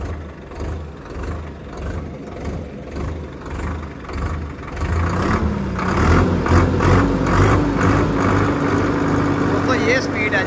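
A Preet 6049 Super four-cylinder tractor engine runs steadily in low gear with a loud, close mechanical rumble that rises partway through, while someone talks over it.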